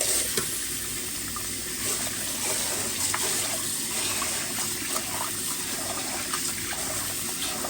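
Water is poured steadily over pork chine being washed in a kitchen, making a continuous splashing gush with small spatters throughout and no talking.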